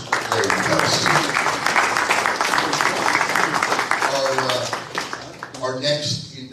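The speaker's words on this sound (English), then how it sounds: "how about another round of applause for Bob and, of course, Larry McKellar" At a 2023 MCOA hall of fame ceremony, a crowd gives a sustained round of applause for the inductees. A dense wash of clapping fills most of the stretch before it thins out, with voices talking over it.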